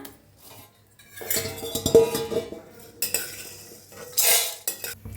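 Fried puffed snack, a homemade popcorn alternative, being scooped out of a pan into a bowl, with a burst of metal-on-metal scraping and clinking of utensils against cookware, loud and close, and no talking.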